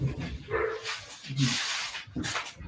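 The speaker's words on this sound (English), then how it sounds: "My foster dog." A foster dog barks in a few short, sharp bursts close by, with whimpery yips in between and people talking around it.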